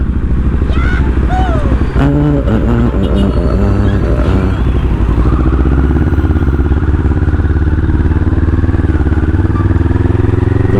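A motorcycle ridden on the road, one its owner has kept for four years: a loud, steady engine drone with wind rush that runs throughout, and a voice talking over it in the first few seconds.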